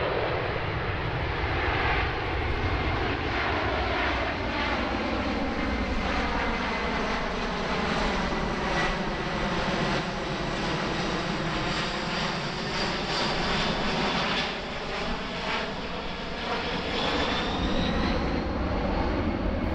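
A C-17 military cargo jet flying past at the EAA AirVenture Oshkosh 2018 airshow, a loud sustained engine roar with a slowly sweeping pitch as it passes overhead.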